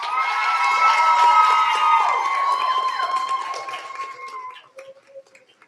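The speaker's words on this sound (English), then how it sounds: "Students, let's give them a round of applause" A crowd at a health sciences and nursing pinning ceremony cheers with high whoops and shouts over some clapping, loud at first and then tapering off into a few scattered calls.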